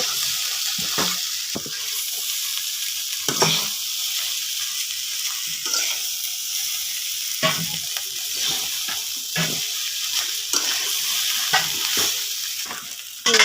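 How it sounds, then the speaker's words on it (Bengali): Vegetable noodles are stir-fried in a pan with a continuous hiss of sizzling oil, punctuated by irregular scraping and tossing knocks from the spatula, close and without talk. "এখন দিয়ে দিলাম নুডলসগুলো, নেড়ে চেড়ে মিশিয়ে নেব সবজির সাথে।"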